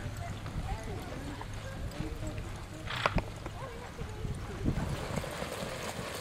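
Horses trot in a drill team exercise, hooves clip-clopping in a loose rhythm at a moderate distance, with a rider's voice calling out instructions over them.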